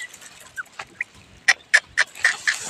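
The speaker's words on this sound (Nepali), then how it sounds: "कुखुरा यो चाहिँ चल्ला" Chicken chicks at a rural farmhouse, a series of short chirps and clucks coming in quick bursts, moderately close with quiet background between calls.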